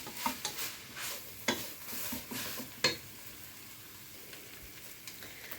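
Bolognese sauce cooks in a pan, sizzling and bubbling softly while a spoon stirs and scrapes in a few distinct strokes, close and moderately quiet.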